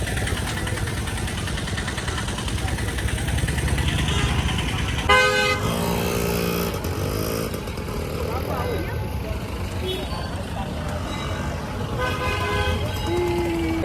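Busy road traffic near a temple, with repeated car and motorcycle horns honking over idling engines and steady vehicle rumble, some honks close and loud, others farther off, while people talk nearby.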